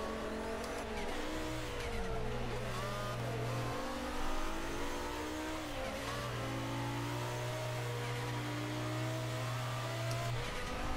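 Forza Motorsport 5 car engines rev and whine continuously, pitch sweeping up and down through gear changes, loud and constant with a sustained tonal hum and turbo.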